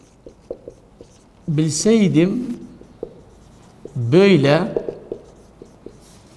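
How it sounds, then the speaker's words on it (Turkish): A marker or chalk scratches and taps across a classroom board while a sentence is written during a Turkish language lesson, with short clicks scattered throughout and a teacher's voice speaking in two bursts over the writing. "Bir en son cümleyi de yazalım."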